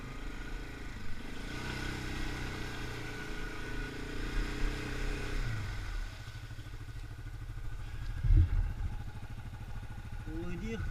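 A Yamaha Grizzly 550 ATV engine drones and labors through deep mud, running steadily at moderate volume with a brief louder clatter near the end, while a voice talks over it at times.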